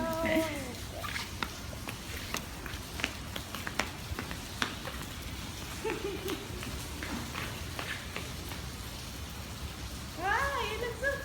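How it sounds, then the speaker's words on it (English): Steady rain falls outdoors on a walk, a soft continuous patter with scattered drips and taps, faint and diffuse beneath people talking. "It's raining."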